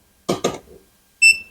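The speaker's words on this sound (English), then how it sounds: "when I go over to my other outlets in the kitchen, see, they're still beeping" A kitchen electrical outlet gives a short, loud electronic beep near the end, after two brief thumps or knocks, in an otherwise quiet room.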